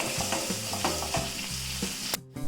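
Curry leaves frying and sizzling in hot oil in a pan while chicken curry for black chicken is being made, with steady crackling and stirring scrapes throughout and a brief sharp burst near the end; no talking.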